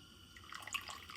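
Liquid black RIT dye poured into a container, a faint, brief trickle and splash that builds slightly toward the end with no voices.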